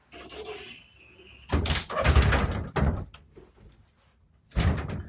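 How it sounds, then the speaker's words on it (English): A closet door in a childhood home bedroom pushed shut, giving a couple of close, loud thuds and rattles with a softer knock afterwards, no talking. "Let me close this closet door behind me."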